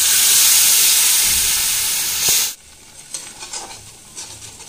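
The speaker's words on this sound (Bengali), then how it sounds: "মশলা থেকে তেলটা ছেড়ে গেছে, এবার আমি নারকেল দুধটা দেব।" Coconut milk hits sizzling masala in a pan with a loud, bright hiss that drops abruptly after a couple of seconds. Softer bubbling and stirring sounds follow at close range.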